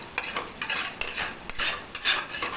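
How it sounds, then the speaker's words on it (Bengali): Scrambled egg stirred in a pan over a medium flame while making spicy masala Maggi: a soft frying hiss under quick, repeated scraping strokes of a utensil, close up. "1 মিনিট মতো মিডিয়াম ফ্লেমে নাড়াচাড়া করতে হবে।"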